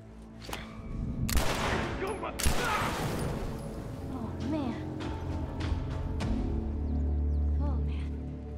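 Bursts of gunfire from The Last of Us, sharp shots cracking over a busy game mix of ambient effects and music, with voices talking throughout.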